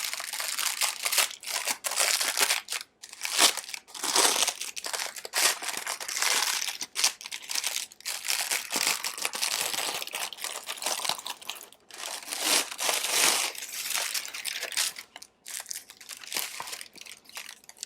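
Parchment paper being peeled back from a freshly baked no-knead bread loaf, a continuous close crinkling and crackling with brief pauses, no voices.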